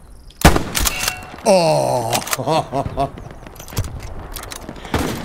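Video-game gunfire: a few sharp, loud shots burst out in a multiplayer shooter match, spaced apart, while players shout and react over them.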